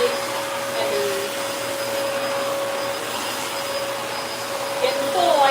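A household vacuum cleaner runs steadily with a loud whining motor and airy rush, close by, the pitch wavering slightly as it works during power cleaning of a house.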